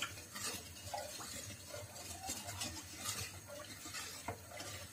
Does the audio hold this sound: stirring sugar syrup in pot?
yes